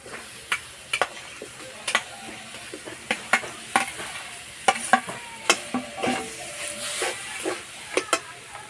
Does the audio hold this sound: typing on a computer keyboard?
no